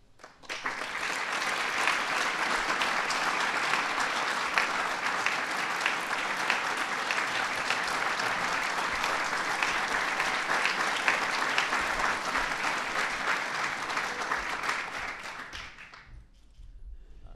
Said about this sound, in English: let's please give one more big round of applause to the National Medals of Science, National Medals of Technology and Innovation